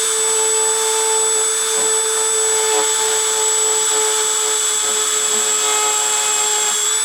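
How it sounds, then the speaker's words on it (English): Deposition machine with its spindle running, giving a steady, loud whir with fixed high tones that holds evenly throughout, no talk. "Starting deposition."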